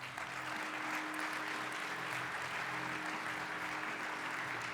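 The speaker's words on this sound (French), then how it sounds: "Je vous demande d'accueillir sous un tonnerre d'applaudissements Gilberto Pellegrino." Thunderous audience applause welcoming a speaker onto the stage at a French professional conference, a dense, steady wash of many hands clapping that holds at full strength throughout with no voices over it.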